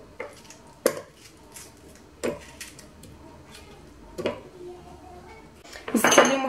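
A knife chops tomatoes into small pieces on a board, giving a few sparse, well-spaced knocks that end in a louder burst of clattering.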